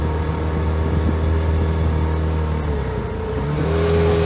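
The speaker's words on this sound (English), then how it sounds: "Motor's running pretty good." A Chrysler outboard motor on an inflatable boat on Folsom Lake runs steadily, a loud close engine drone with a slight pitch dip and recovery near the end.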